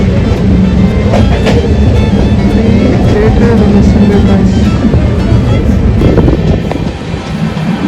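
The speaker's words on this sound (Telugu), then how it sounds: "పక్కన నుంచి వేరే ట్రైన్ అవుతుంది." Another train passes alongside a moving train near Tellapur, Hyderabad: a loud, continuous rumble with rattling wheel clatter filling the whole stretch, dipping slightly near the end, with some voices faintly underneath.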